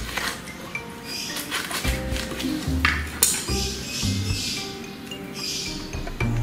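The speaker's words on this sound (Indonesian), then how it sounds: "Ini adalah pemotong nanas model putar" A twist-type pineapple cutter turning and grinding through a whole pineapple in a kitchen, giving close, irregular scraping and crunching with light metallic clinks, no one talking.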